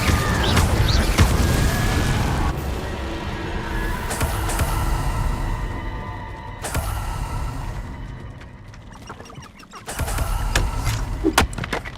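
A fire spell cast in the Hogwarts Legacy video game comes through as loud whooshing, roaring bursts and booms that swell and fade over several seconds amid game effects.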